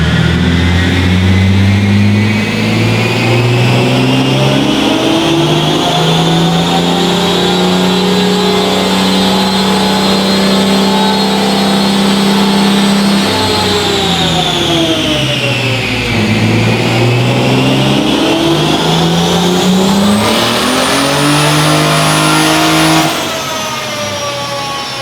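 A turbocharged BMW E36 M3 engine revving hard on a dyno, loud and close, climbing steadily, dipping briefly, then rising again to a high-pitched peak before dropping off, with no voices over it.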